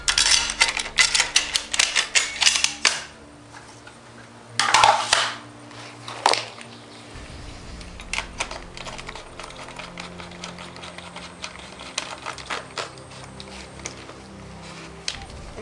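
A barrel is fitted onto a Kral A12 air rifle with a misfire fault, making dense metallic clicks and rattles, two louder clacks, then sparse light ticks over a low hum.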